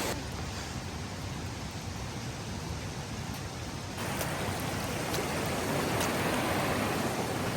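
Steady broadband rush of a waterfall on a foggy hiking trail at Mina Sauk Falls, heard as continuous, even water noise close by that swells slightly louder partway through, with no voices.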